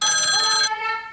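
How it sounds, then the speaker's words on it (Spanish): A telephone rings on the Gran Hermano television show, one loud, bright electronic ring that cuts off and decays into a fading tail, with no talking over it. "cuando sonaba el teléfono"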